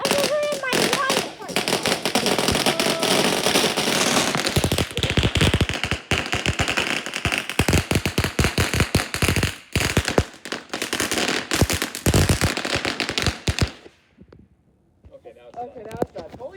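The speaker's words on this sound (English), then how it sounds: "That was the biggest firework." Two packs of fireworks going off outdoors: a loud, dense barrage of rapid cracking bangs and crackle runs for about fourteen seconds, then stops abruptly, leaving a quieter tail with faint voices.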